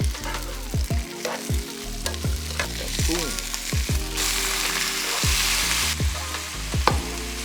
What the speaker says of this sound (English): right now I'm just stir frying some aromatics, your usual onions, ginger and garlic